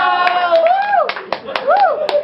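A crowd at a rap battle claps in sharp, scattered bursts of a few hands at a time, under a loud voice speaking in a rhythmic, sing-song delivery that dominates the sound.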